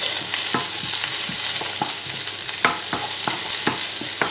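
Onion for a salmon risotto sautéing in a pan, a loud constant sizzle with regular crisp taps and scrapes of a utensil stirring through it.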